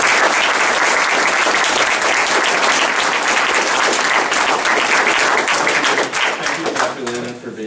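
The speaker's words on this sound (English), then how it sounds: "please join me in giving all of these individuals a big round of applause." Loud, sustained applause from an audience at a 2015 DAPi induction and Two Thumbs Up award ceremony, dense steady clapping for nearly eight seconds with voices mixed in, thinning slightly at the end.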